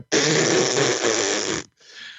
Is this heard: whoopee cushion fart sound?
yes